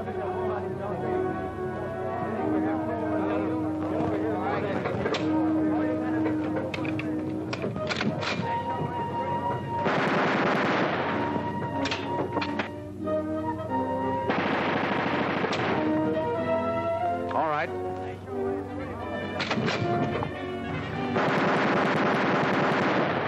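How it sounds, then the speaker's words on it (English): Machine gun fire in a WWII aerial gunner video game, bursts recurring loudly over a steady engine drone with music-like tones, some bursts separated by brief pauses. "Pick one and fire it until it jams, then find out what's wrong with it."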